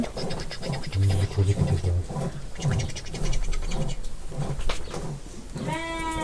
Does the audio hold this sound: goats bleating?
yes